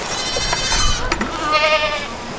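Young goats on a farm bleat in several wavering, nasal cries close by, one call following another with little pause, over faint background activity.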